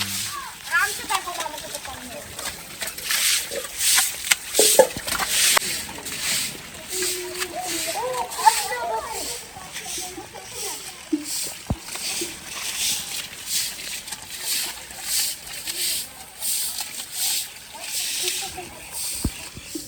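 Heavy rain hisses steadily and water sloshes as it comes into a room, a continuous wash of noise while someone talks throughout.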